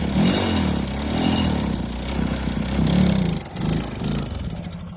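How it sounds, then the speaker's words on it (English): Yamaha Blaster clone 2-stroke engine revving up close, a loud buzzing, wavering drone that rises and dips in pitch over several seconds with rattling clatter. "It's 2-stroke. Rev her up a little bit."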